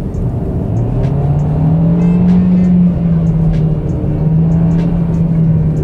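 Kia Ceed engine humming at raised revs in sport driving mode, a steady droning tone heard from inside the cabin that rises slightly and holds, with faint clicks over it.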